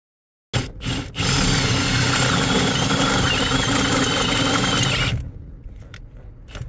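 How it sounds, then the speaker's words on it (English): A power drill bores out bolt holes slightly bigger on a vehicle part, a loud continuous whirring grind running about five seconds close up before stopping, with faint handling noises after. "I'm going to try and drill these out slightly bigger just to give my bolts a bit of a fighting chance to get in."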